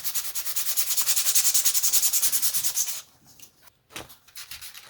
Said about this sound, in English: This is 600 grit, wet and dry,